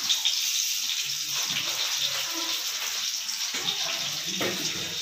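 Cumin seeds sizzle in hot oil in a pan, a continuous close hiss and crackle that holds steady throughout with faint clatter underneath.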